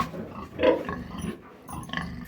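Young sows kept for breeding on a Ukrainian farm grunt and snuffle close by in several short, irregular bursts, with quieter shuffling between them.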